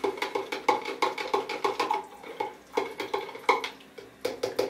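Liquid Rodinal film developer being stirred into 600 milliliters of distilled water, a rapid run of close clinking and sloshing strokes in an uneven rhythm, heard alone.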